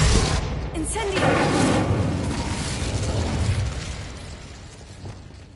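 Incendio fire spell cast in Hogwarts Legacy erupts as a loud, close burst of flame and booming blast that rolls on and slowly fades over several seconds, with a voice briefly heard over the start.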